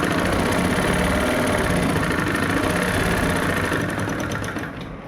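Domestic sewing machine stitching a kurti seam from the armhole, a steady continuous mechanical whir with fine rapid clatter, close and loud, easing slightly near the end.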